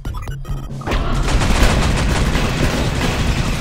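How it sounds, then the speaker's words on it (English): Sentry guns in the sci-fi shooter Space Beast Terror Fright open up after a few scattered shots, becoming a dense, continuous roar of rapid automatic fire with heavy low rumble. "They're getting nothing but sentry guns."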